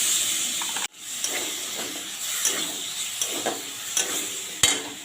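Ginger-garlic-chili paste with turmeric, Kashmiri chili and tomato paste sizzles steadily in a pan, broken by repeated scraping stirs and a sharp clatter near the start.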